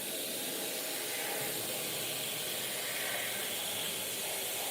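Black spray paint hisses steadily from a can as it is sprayed around the edge of a lowrider patterned panel, a constant close airy spray lasting the whole time with no talking.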